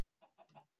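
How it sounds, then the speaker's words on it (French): Minecraft chickens give three short, soft clucks in quick succession against near silence, each a brief clipped call. "ils sont trop cons, les poulets"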